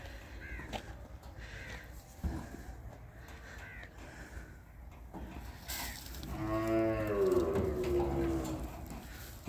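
Cattle unloaded at a Multan cattle farm, including Sahiwal-breed cows, low moos rising late and carrying strongly over steady farmyard noise, with birds calling in the background.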